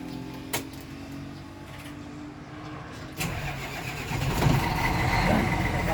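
A car engine at a mechanic's shop in Pangasinan cranks briefly and catches around the middle, then settles into a steady, close running rumble that grows slightly louder toward the end.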